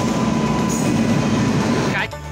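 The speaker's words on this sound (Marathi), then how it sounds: "हे आहे आपली ट्रेन." A train at the station rumbles steadily with a broad metallic roar, then cuts off abruptly near the end; a person talks over the noise.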